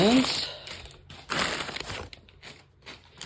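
Newspaper packing crinkles and crumples in bursts close by during an unboxing, with a voice talking over part of it.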